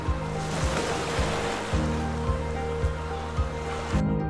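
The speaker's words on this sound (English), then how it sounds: "we can get light ones like waves lapping against the coastline" Ocean waves lap and wash against a coastline, a steady near surf hiss with a low rhythmic swell pulsing roughly every half second, ending abruptly.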